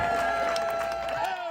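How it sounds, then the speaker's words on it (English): A large crowd celebrates at the dedication of a new school building, the Grace Innovation Center, with a steady roar of cheering and scattered clapping that fills the whole moment, loud and close. "with a huge crowd celebrating, they dedicated the Grace Innovation Center"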